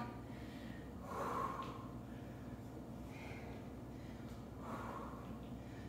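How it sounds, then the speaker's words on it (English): Heavy breathing from someone doing a dumbbell workout: a few strong exhales and gasps spaced a couple of seconds apart, close to the mic, over a steady backing track. "Breathing."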